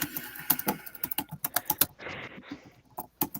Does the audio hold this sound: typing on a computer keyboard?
yes